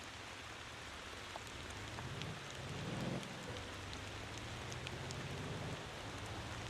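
Steady rainfall in the driving game Motor Town, a soft, even hiss of rain on surfaces throughout, with a low vehicle rumble swelling and fading partway through.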